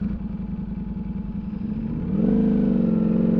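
Ducati Panigale V4 with a Spark Double Grid exhaust pulling away from a throbbing idle into a sudden louder, rising engine roar as it accelerates.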